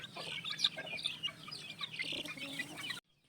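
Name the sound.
chicks in a scratch pen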